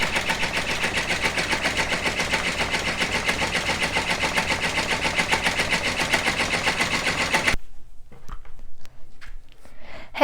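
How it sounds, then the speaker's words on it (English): An embroidery machine stitches a design onto an adult shirt, its rapid, even mechanical chatter running steadily for several seconds before cutting off into near silence with a few faint handling noises. "So you guys just enjoy the rest of the video, me embroidering this."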